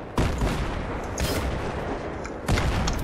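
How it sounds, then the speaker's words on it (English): Gunfire in Battlefield 3, a dense spell of rattling shots with sharp cracks at the start and near the end, loud and close, with no talking over it. "Getting shot at up here."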